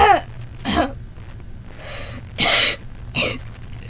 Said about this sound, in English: I start coughing when I get spooked